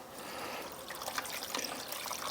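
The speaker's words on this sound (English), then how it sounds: "Let's get a little bit more water in there." Water poured from a container into a cooking pot of pepperoncini at a riverside van campsite, a steady close trickling splash lasting a couple of seconds with no talk over it.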